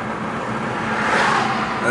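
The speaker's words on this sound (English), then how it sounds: "Got a car coming" A car approaches and swells past on a quiet road near woods, a steady broadband rush growing louder over two seconds beneath someone speaking.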